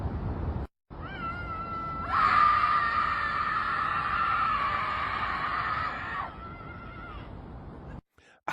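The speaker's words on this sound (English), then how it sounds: "I don't understand the mentality of these people that scream" Shrill, sustained screaming from a group of protesters across a river, a long wavering cry rising loud for about four seconds over steady background noise, with a brief dropout near the start.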